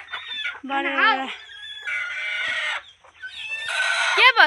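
Chickens clucking and squawking close by, several bursts of agitated calls with a rooster-like crow, no talk.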